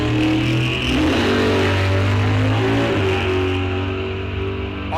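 A 1969 Hemi Barracuda drag car launches at Rock Falls Raceway during a bracket race, its engine roaring loud and close with a rising rev that sweeps upward then fades slightly.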